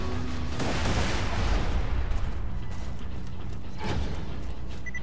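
A turret fires in Borderlands 2, a steady roar of booming shots and blasts that stays loud throughout, with a brief high electronic whine near the end.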